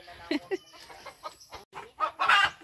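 Chickens clucking close by in short, irregular bursts, growing louder and more agitated toward the end, with a faint voice mixed in.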